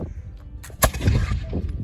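A muzzle-loading gun fires a single sharp, loud black-powder bang, followed by a rumbling echo and crowd noise outdoors.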